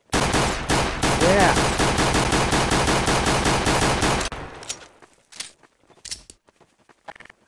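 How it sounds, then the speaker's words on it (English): Rapid automatic gunfire rattles loudly for about four seconds in the Gnomes video game, then gives way to scattered single shots and clatter, with a brief spoken word. "I will shoot a hole in your bottom."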